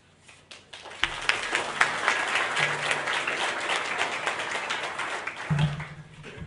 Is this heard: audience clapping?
yes